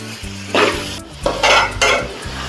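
Thick mango varattiyathu being stirred continuously in a pan, three loud scraping sweeps of the spoon over a low bubbling background, close and with no talk.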